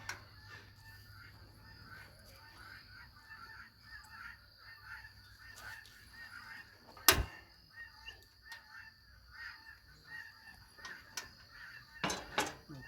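Guinea fowl call on a farm where sugarcane is being processed, sharp cackling bursts rising now and then over a quiet background, with one loud harsh cry near the middle and more toward the end.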